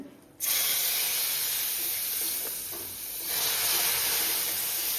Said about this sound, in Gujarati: હવે આપણે એને આની અંદર આપણે દૂધ નાખવાનું છે. તો આપણે ધીમે ધીમે કરીને દૂધ નાખવાનું છે.